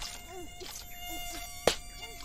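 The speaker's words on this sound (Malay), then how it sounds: "banyaknya nyamuk." A thin, high insect whine hovers close by, rising and falling like mosquitoes buzzing, with a sharp tap partway through.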